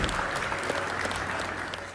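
Applause from a crowd at a school graduation ceremony, a continuous, fairly dense clatter of many hands at moderate distance, with faint crowd murmur beneath and no clear speech.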